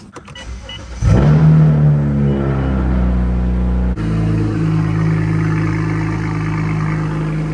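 BMW 135i fitted with a stage 3 fuel pump, starting off on a test drive: a short whirr, then the engine rises into a loud steady drone, shifts at one point and settles into an even cruising hum.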